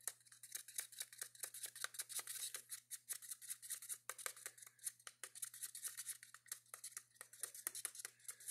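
Turquoise paint mixed with Floetrol is stirred for pour painting, a quick run of soft, rhythmic scraping strokes close up, evenly repeated for several seconds in an otherwise quiet space.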